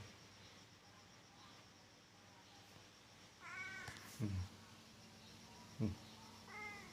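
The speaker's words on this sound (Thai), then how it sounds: "มาดูไอ้แมว" Outside a house, a cat trying to get in past a mosquito net meows several times, drawn-out mews spaced apart over a steady low hum, soft and moderately close.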